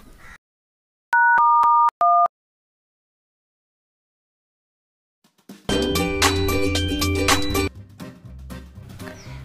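A telephone gives a few short electronic tones before a call in a short film, then falls silent before music starts.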